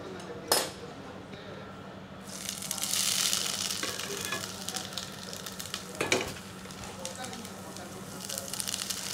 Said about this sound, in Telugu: కొద్దిగా నూనె వేడి చేసుకుందాం. కొద్దిగా అల్లం వేసుకున్నాం.